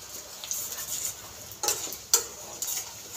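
Whole garlic cloves fry in hot mustard oil with a soft, steady sizzle, broken by a few sharp metallic clinks and scrapes of a spoon against the pan.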